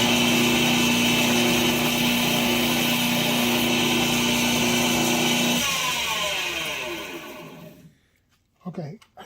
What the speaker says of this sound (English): I gotta grind just this little area here